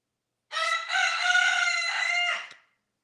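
A rooster crows once, close and clear, a single drawn-out cock-a-doodle-doo lasting about two seconds against total silence.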